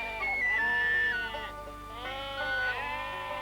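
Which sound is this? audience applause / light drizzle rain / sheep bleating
sheep bleating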